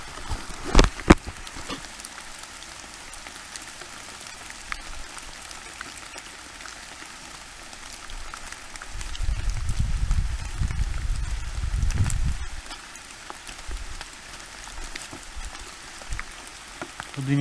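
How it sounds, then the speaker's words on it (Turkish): Steady rain patters and hisses throughout on a forest trail, with a low rumbling swell in the middle and a few sharp taps early on. "Çok güzel yağmur yağıyor."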